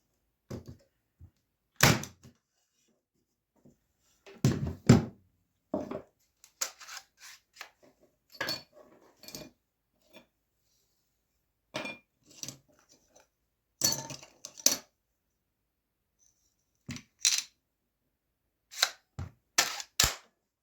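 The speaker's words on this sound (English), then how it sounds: "it has enough force to insert a 30 millimeter staple nail in hardwood and plywood." A Parkside PET 25 D4 electric nail gun stapler drives staples into hardwood, producing sharp isolated snapping shots, sometimes in quick pairs or clusters, separated by silence.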